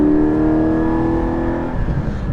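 Porsche 718 GT4 engine under way while driving, a loud steady hum from inside the car that holds for a moment and then eases off as the revs fall. No voices are heard.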